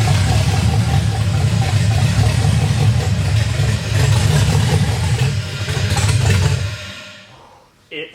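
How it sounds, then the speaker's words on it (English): An LS3 V8 swapped into a BMW E30 fires up and settles into a loud, deep, lumpy idle that rumbles steadily before cutting off near the end. "today is the day it's time to start up the E30"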